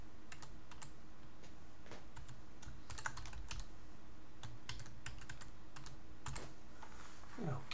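Typing on a computer keyboard while setting up Ubuntu Linux on an HP EliteDesk 800 G4 Mini: short bursts of close, crisp key clicks with brief pauses, no talking, over a low steady hum.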